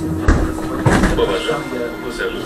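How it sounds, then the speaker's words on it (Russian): Doors of a Minsk route 38 trolleybus slide and thump shut with a couple of heavy knocks, under a loud onboard announcement voice and cabin rumble. "Осторожно, двери зачиняются."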